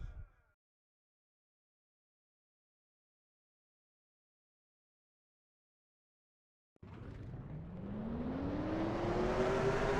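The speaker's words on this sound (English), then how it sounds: "Drivers, start your engines!" After a long silence, race car engines fire up and rev in a sim racing game at North Wilkesboro with 42 cars on the grid. The roar swells steadily with rising pitch and grows louder to the end.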